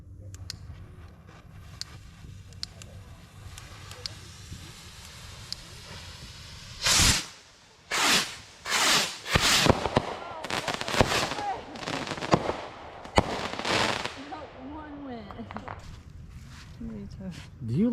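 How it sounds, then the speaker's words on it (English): Big rocket fireworks are lit and launched at a July 4th celebration. About seven seconds in, a rapid series of loud whooshing hisses and bursts starts and goes on for several seconds, with people talking before and after. "I'm lighting all the big rockets."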